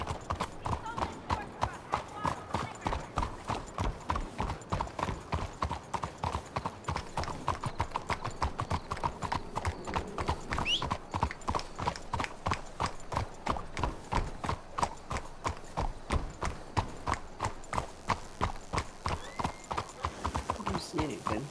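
Horse hooves in a video game clip-clop in a rapid, steady rhythm of sharp close knocks for over twenty seconds, an unbroken galloping patter.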